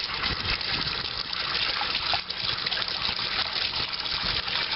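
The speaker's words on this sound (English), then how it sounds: "I'll mix it up with water and put it in the pool." Pool chemical stirred into water in a bucket during weekly pool service, heard as a steady, close, continuous gushing and sloshing of water that runs without a break for the whole stretch, with no talk.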